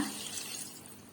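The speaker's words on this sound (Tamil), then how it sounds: "தண்ணி ஊற்றிக்கோங்க." Water pours steadily into a cooking pan holding tomato, onion, beetroot and turmeric, a continuous bright splashing rush that fades slightly toward the end.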